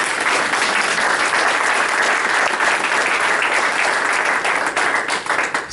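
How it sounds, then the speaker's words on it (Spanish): Church congregation applauding during a sermon, a loud, sustained roar of many hands clapping together, steady throughout and tapering slightly at the very end. "si le va a aplaudir a Jesucristo, pues hágalo fuerte de una vez"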